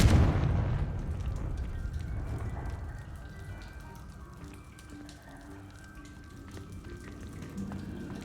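A Confringo fire-blast spell explodes in Hogwarts Legacy: one loud burst at the start that fades into a long crackling, rumbling tail.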